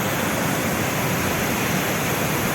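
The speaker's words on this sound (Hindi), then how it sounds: "ये वाटरफॉल है जो जाके इसका पानी लेक में जाता" A waterfall feeding Madhuri Lake in Arunachal Pradesh, heard as a steady, dense rush of falling water, close and constant with no voices over it.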